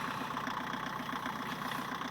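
Volkswagen Passat B2 1.6 turbo diesel from 1986, recently rebuilt, idling steadily with an even, continuous rumble and faint knocking rhythm, close by and without talk.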